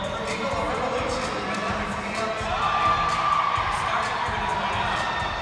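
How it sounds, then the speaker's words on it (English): A roller derby crowd at a Vancouver versus Lethbridge game cheers wildly in a dense, sustained roar of shouts and whoops that fills the arena throughout. "You can hear the whole crowd just going wild over that"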